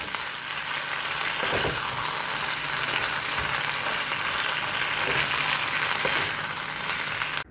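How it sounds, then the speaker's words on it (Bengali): A fish dish reheating in the little leftover oil of a fish-frying pan, giving a continuous loud close sizzle and hiss with occasional soft stirring taps throughout. "মাছের কড়াতে ওই একটু তেল ছিল, তাতেই এটাকে গরম করে নিচ্ছি"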